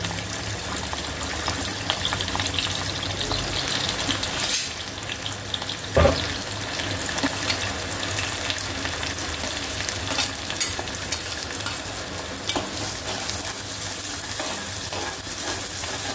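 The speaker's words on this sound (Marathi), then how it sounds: "त्याच्यामध्ये आपल्याला कढीपत्ता घालायचा आहे आणि कांदा घालायचा आहे" Curry leaves and onion fry in hot oil in a pan as a loud, continuous sizzle that stays steady throughout, with a brief sharp clink of a utensil partway through and no talking.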